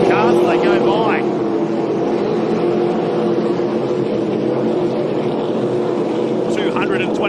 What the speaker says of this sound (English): Have a listen to the cars as they go by.